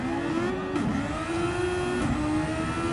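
A Ferrari-liveried Super Formula race car drives on at a loud, steady engine pitch, which dips briefly twice as gears change, with no talk over it.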